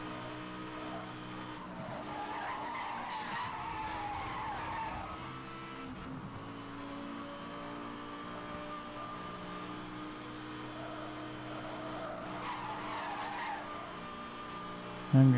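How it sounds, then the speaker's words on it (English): Tires squeal and skid as a car drifts around corners in a Need for Speed street race, a continuous loud screech over steady engine roar, surging and easing through the turns. "Drifting around the corners,"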